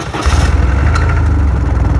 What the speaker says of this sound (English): We're gonna get the bike warmed up.